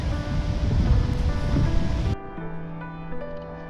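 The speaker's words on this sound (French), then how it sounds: "La mer est déchaînée." Rough, storm-driven waves of the Mediterranean Sea surge loudly in a dense, continuous wash of surf under wind, then drop abruptly partway through to a quieter, thinner background.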